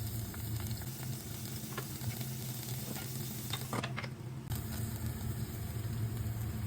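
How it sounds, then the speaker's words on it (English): Bruised lemongrass stalks and diced red onion sauté in olive oil with a steady, close sizzle and light stirring clicks, a low background rumble underneath throughout. "Saute the bruised lemongrass stalks. Now add on half of red onion dices."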